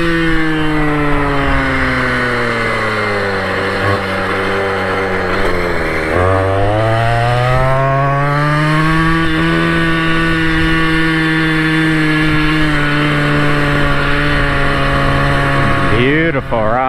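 A Goped GTR gas scooter's small two-stroke engine buzzes loud and close throughout a ride, its pitch rising and falling as the throttle changes, with a sharp rev near the end.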